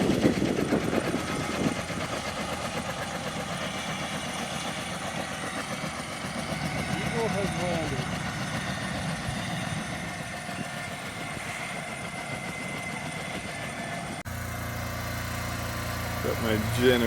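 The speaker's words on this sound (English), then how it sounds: "Got my generator on over there. Just to power my fridge." Generator running outdoors near a wildfire camp to power a fridge, a steady low engine hum and idle vibration holding throughout under nearby talk.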